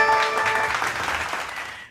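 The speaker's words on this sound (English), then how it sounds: "Clap for yourself." Brief burst of applause from a Bible quiz show audience after a contestant answers correctly, a dense wash of clapping close by that fades out over about two seconds.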